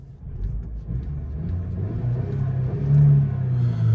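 Muffled low rumble of a Mercedes CLA 250's 2-litre four-cylinder turbo engine under load, a steady droning hum that swells slightly as the car pulls, heard from inside the cabin.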